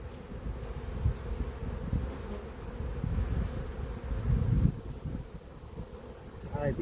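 Bees hum and buzz around an opened backyard hive during a late-season inspection, a faint, low, fluctuating drone with light wind noise and handling sounds.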